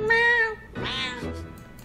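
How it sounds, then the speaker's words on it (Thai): A cat gives a long drawn-out meow followed by a shorter, rising complaint, close and clear, as though arguing back at a person. "มาเจอนี่แมวเถียงคน"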